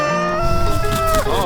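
A farm hen with crooked toes makes a sustained, loud, close vocalization with a wavering pitch that bends up and down near the end.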